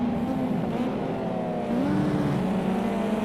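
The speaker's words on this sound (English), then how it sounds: "Jay Daniels buzzing the life out of his gearbox by the sound of that, just bouncing off the rev limiter." A race car's engine in Project CARS 2 screams near the Melbourne hairpin, holding a steady high buzzing note that wavers slightly as it bounces off the rev limiter, loud and continuous with no voices.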